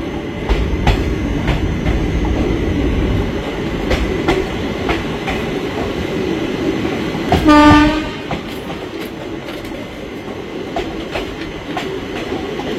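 A Valsad-shed WAG-9HC electric locomotive hauls the Maa Tara Express, a loud continuous rumble of rolling wheels and rail clatter with a short horn blast midway, no voices.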